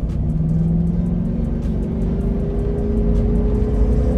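A 1989 Mercedes 560 SEC with an AMG body kit accelerates hard while held in second gear, its engine roaring loud and close in a deep, steady rising drone.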